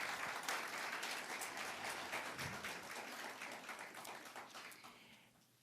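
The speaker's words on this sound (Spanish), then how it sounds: "Un aplauso para mis actores, por favor." A congregation applauds during a Sunday church service, a full burst of clapping that starts loud and gradually thins and fades toward the end.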